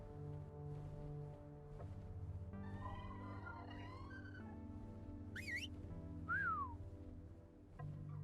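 Whistle command calling a Giga dinosaur in the video game ARK, several short melodic whistled calls over a steady low mechanical hum, moderately clear against the background drone.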